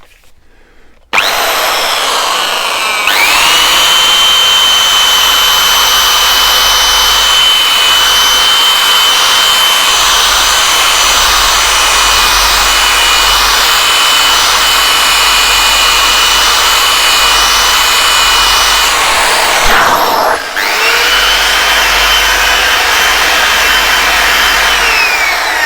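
A Suzuki GT750 fork tube is polished with compound on a power buffer that starts abruptly, runs as a loud, steady high whine for about 17 seconds, dips briefly, then spins on, close up and alone.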